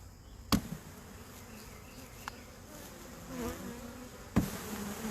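Honey bees at an open hive give a faint, steady buzzing drone, broken by a few sharp knocks and clicks from handling the hive.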